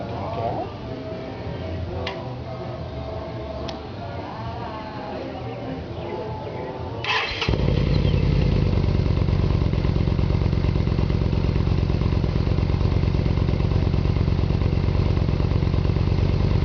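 A 2009 Yamaha 950 tourer motorcycle starts at about seven seconds, its engine catching from quiet surroundings and settling into a steady, loud, mellow idle close to the microphone, with drilled exhaust holes.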